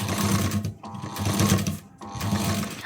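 A sewing machine stitches piping onto a garment's neckline in short close-up bursts, loud steady motor whirring broken by two brief pauses where the fabric is turned, with no talking.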